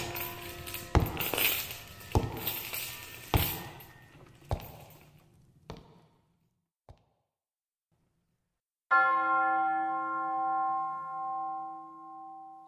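A church bell tolls once in a radio drama of A Christmas Carol, its loud, deep stroke ringing on and slowly fading after a run of crashing, clattering impacts and a stretch of silence.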